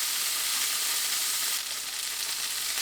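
Chicken wings sizzle in a hot pan as they brown on both sides, with a steady, loud frying hiss running the whole time and no voices.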